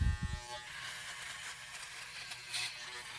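A Braun Series 6 electric razor set to gentle mode hums with a steady close buzz as it glides over stubble, after a brief handling bump at the start, with no speech.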